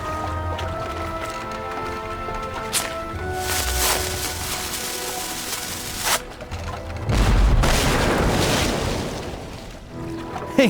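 A gunshot at a banana tree in the adventure game Jack Keane 2, heard as booming blasts over a steady bed of ambient waves and wind, with a louder rumbling burst late on.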